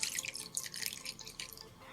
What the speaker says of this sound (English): Now pour it into your slime.